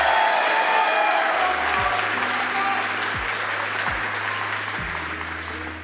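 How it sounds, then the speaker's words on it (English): A crowd applauds loudly at a Summer Games Done Quick 2023 Sonic Frontiers speedrun, the clapping slowly fading over several seconds while a low synth tone plays underneath. "So let's hear it for Big the Cat one time."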